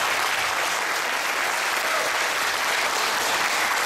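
A concert audience at a philharmonic performance gives sustained, dense applause, a steady roar of many hands clapping without pause.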